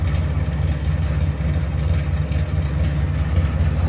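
A 1970 Chevy Chevelle SS 454 big-block V8 with headers and straight pipes idles close by, a loud, steady low rumble with an even, lumpy pulse throughout.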